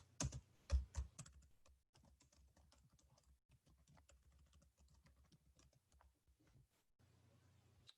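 Computer keyboard typing with a dense burst of loud clicks at the start, then a steady run of softer, quieter keystrokes, ending in a brief low hum.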